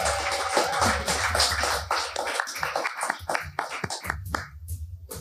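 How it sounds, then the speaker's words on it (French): Audience applause at a live French Dungeons & Dragons game show, a steady wash of many hands clapping with tapping accents that thins and turns patchier toward the end, with some voices mixed in. "On peut les applaudir, mesdames, messieurs."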